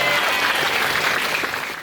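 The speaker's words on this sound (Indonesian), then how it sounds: "Tepuk tangan untuk kita semua." Sustained audience applause fills the hall at an anniversary gala night for a health sciences college in Majene, loud and steady throughout, tapering slightly at the end.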